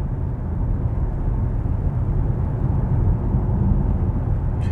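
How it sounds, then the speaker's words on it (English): Inside an Audi S6 Avant at speed, a steady low road rumble and a soft wind hiss fill the cabin evenly, with no talking. "Wind noise is well controlled. There is a bit of road noise"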